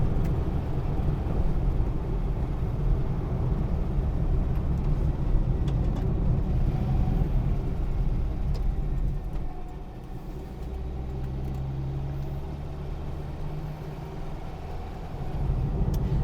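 A thrashy engine from an early 1970s Renault 5 small car drones steadily while driving, a rough continuous hum with road noise that briefly dips midway before resuming.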